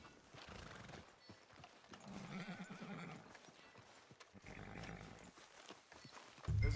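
Horse hooves clip-clopping in Red Dead Redemption 2, a steady trotting rhythm kept faint under a soft game ambience with a whinny and a louder thump at the end.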